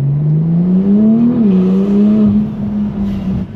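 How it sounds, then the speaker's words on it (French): A Porsche engine revving hard with turbo and air intake noise, a loud, close, continuous tone rising and dipping in pitch over a few seconds with a rushing whoosh layered on top. "Le bruit de turbo... Et le bruit d'admission d'air dans cette voiture, c'est vraiment ça qui est le plus choquant"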